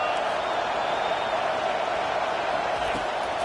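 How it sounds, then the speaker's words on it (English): A college football stadium crowd roars in a steady, dense wall of cheering and noise at an NCAA game with Minnesota playing, filling the whole stretch without letup while faint voices sit underneath. "This crowd knows when to bring it."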